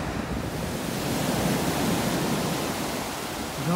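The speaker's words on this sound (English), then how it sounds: "The waves of the sea are raging" Raging sea waves surge as a continuous, loud, roaring wash of surf with gusty noise, alone and without any voices.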